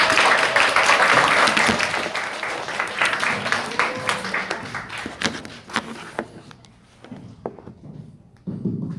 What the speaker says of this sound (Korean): 김현정 강사님을 큰 박수로 모시도록 하겠습니다.